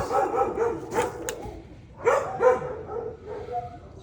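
Several dogs, Labradoodles, bark outside a house in bursts, some yipping and overlapping, heard from a moderate distance with pauses between volleys.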